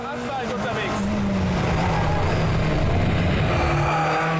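A rally car accelerates hard on pavement, its engine roaring loud and close with a rising pitch, while a person talks over it throughout.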